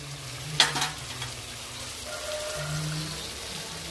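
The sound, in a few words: chicken curry with drumsticks and tomatoes simmering in pan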